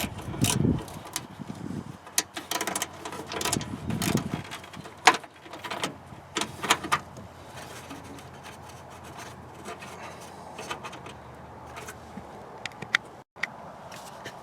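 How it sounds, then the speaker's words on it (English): A small ratchet working on the headlight assembly of a 1997 Suzuki Sidekick makes bursts of close, scratchy clicking and rubbing, busier at first and then thinning to sparse ticks and taps with no talking. "I forgot I've got another little ratchet here"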